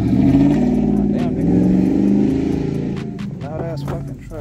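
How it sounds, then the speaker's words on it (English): A loud passing truck engine revs and rumbles close by, swelling and easing over a few seconds while someone talks over it. "Loud ass fucking truck, man."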